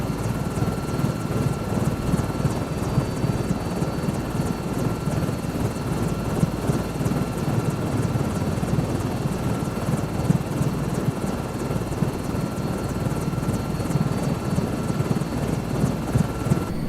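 Helicopter rotors in Microsoft Flight Simulator 2024, a continuous loud, rumbling rotor drone with a steady engine whine that holds unchanged throughout, without speech.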